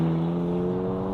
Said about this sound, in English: Immediately when you switch it on, you can hear a bit of a burble